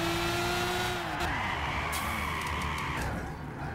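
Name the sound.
car drifting with tires skidding in Gran Turismo 6 video game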